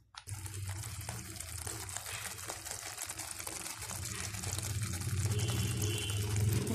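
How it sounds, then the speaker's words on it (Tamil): Water poured from a vessel into a pot of onion and garlic kuzhambu, a steady close gushing splash that runs on and grows slightly fuller toward the end. "தண்ணி ஜாஸ்தியாக ஆட் பண்ணுவோம்."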